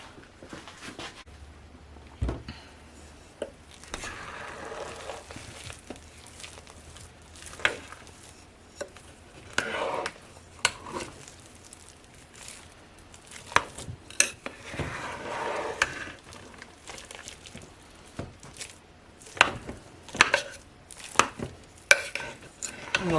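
A metal spoon stirs and turns a thick homemade liquid shampoo mixture, making intermittent scrapes, clicks and knocks against the container with quiet gaps in between.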